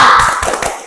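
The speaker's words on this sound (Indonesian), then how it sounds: "Tepuk semangat!" Students in a classroom do a quick rhythmic spirit clap, a short run of close, sharp claps lasting under a second.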